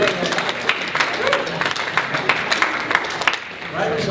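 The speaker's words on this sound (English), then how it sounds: "It's a round of applause" A round of applause in a business training session room, dense overlapping clapping from a group that runs steadily for several seconds, moderately loud and close, with a few louder claps standing out.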